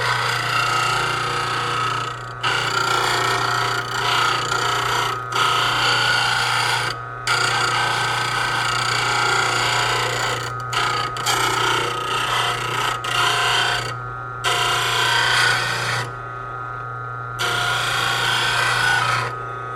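A skew chisel is ground on a rock wheel for woodturning sharpening. It makes a continuous close, gritty rasp over a steady motor hum, broken by brief pauses as the tool is lifted and pressed back on, with no talking.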